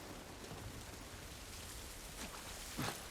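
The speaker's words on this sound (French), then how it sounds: "on est enfin sorti sous une pluie battante." Heavy rain pours down in the video game The Last of Us Part 1, a dense, steady hiss with a couple of louder drips near the end.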